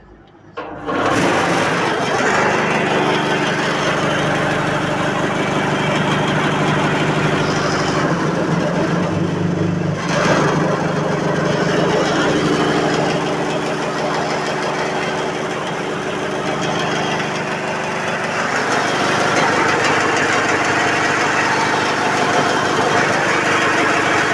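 A homemade electric industrial vibrating table starts up and runs with a loud, steady mechanical drone and rattle that holds for over twenty seconds, with a slight dip partway through and no talking.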